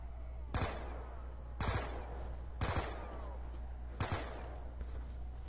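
Submachine gun fire in Call of Duty Black Ops II Die Rise zombies: four short automatic bursts spaced about a second apart, crisp and fairly loud over a low steady game rumble, with no talking.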